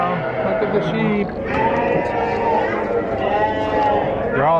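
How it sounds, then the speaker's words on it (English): Sheep at a farm bleat repeatedly and close by, several overlapping wavering calls throughout, mixed with people talking nearby. "All right, we're looking at sheep now."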